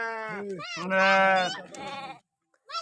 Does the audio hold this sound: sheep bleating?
yes